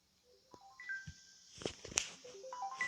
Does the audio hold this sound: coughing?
no